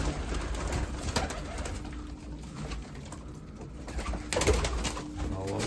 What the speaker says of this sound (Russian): Так, тут у нас бакинцы в голубятне.